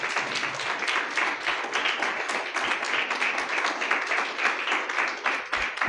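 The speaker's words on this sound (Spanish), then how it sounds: "¿Cuánto le dan un aplauso al Señor?" Congregation applauding at a Christmas church celebration, a dense, steady wash of many hands clapping that fills the room throughout, with no talk over it.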